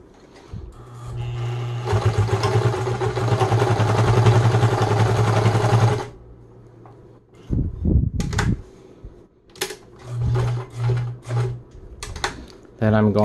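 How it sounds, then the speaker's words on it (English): A Meister 76 programmatic sewing machine runs a long straight stitch through fabric, a steady rapid mechanical whir for several seconds, followed by short stop-start bursts of stitching as a person talks between them. "Let's go ahead and do a long straight stitch. I'm going to hold the thread and place the needle down into the fabric."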